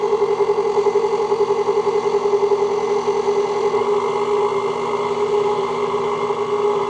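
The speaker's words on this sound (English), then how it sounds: "KitchenAid mixer. That's on first setting." KitchenAid stand mixer running steadily on its first, lowest speed setting: a continuous motor whir with a firm mid-pitched hum and a faint rhythmic pulse, close and even throughout with no talking.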